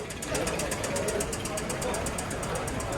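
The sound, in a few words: 2007 Hyundai Sonata 4-cylinder engine running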